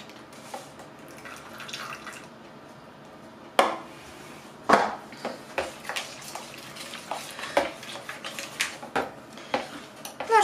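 Spoon clinking and scraping in a bowl while mixing moist gingerbread batter with egg, oil and honey, close and fairly quiet, with sharper knocks at intervals and a steady stirring rhythm toward the end.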